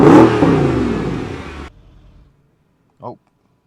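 Mercedes CLS 63 AMG engine revving loudly and close for about one and a half seconds, then dropping away as the rebuilt salvage car cuts out, followed by a short quiet and one brief low sound.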